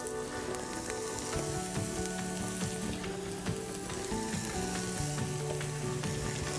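Mushrooms sauté in a hot pan, a steady, dense sizzle with frying crackle running throughout, joined by occasional stirring scrapes, close and fairly loud with no talking.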